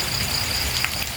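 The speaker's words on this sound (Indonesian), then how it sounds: "Suasana malam hujan di kampung KDM teman-teman ya" Rain falling at night in a village, a dense continuous hiss of drops on surfaces, steady and fairly close with a faint high tone running through it.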